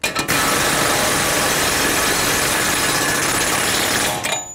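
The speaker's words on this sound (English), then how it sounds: "I'm going to bottom it out with my air gun" A pneumatic air impact gun hammers continuously, bottoming out the hub mounting nut on a 2005-2010 Chrysler 300 steering knuckle, loud and close for about four seconds before cutting off.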